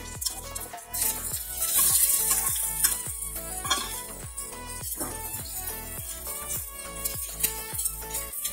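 Cooked rice tossed in a frying pan for turmeric fried rice sizzles steadily under a run of repeated, rhythmic stirring and scraping strokes, close and fairly loud, with no talking.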